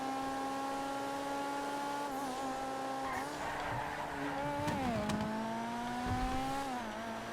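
A Monroe Custom car driven in GTA FiveM, its engine droning steadily with shifting pitch as it corners, with tire squeal and skidding noise; no talk.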